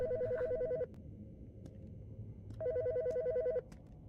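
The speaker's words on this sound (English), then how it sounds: "The fucking phone." Telephone ringing in the autopsy-themed video game Autopsy Simulator, two bursts of an electronic warbling ring about a second apart, clear and steady over a low background hum.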